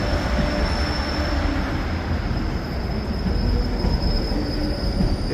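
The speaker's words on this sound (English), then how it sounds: "Now this freight service is normally operated with a class 88, but it's now operated today." A Class 68 diesel locomotive hauls a freight train through Carlisle, its steady rumble and rolling wagon noise sustained and fairly close throughout, with a faint high-pitched wheel squeal running on top.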